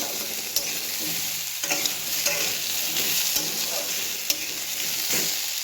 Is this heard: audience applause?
no